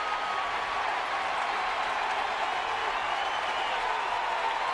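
A sellout baseball crowd at AT&T Park roars and cheers in a steady, dense wash of noise that stays loud and unbroken throughout.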